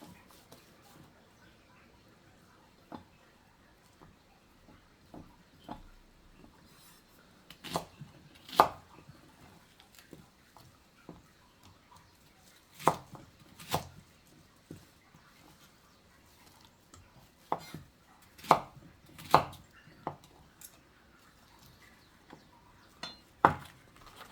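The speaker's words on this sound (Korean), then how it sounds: "양파는 어차피 믹서기에 갈 거라서 이렇게 숭덩숭덩 잘라주시면 됩니다." A knife chops an onion on a cutting board in irregular bursts of sharp, close knocks, with quieter pauses between the runs of cuts.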